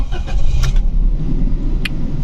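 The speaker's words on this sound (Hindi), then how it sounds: "ये इस गाड़ी का स्टार्टअप है।" Suzuki Alto VXR 2022 engine starts up and settles into a loud, close, rough idle, with a brief clink or two over the rumble.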